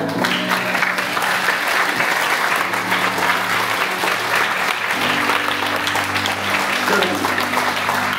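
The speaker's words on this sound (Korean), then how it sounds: "박수 한번 쳐주세요." An audience claps steadily for several seconds at a Korean church service with ventriloquism in Wrocław, Poland, a dense patter of applause over sustained musical tones underneath.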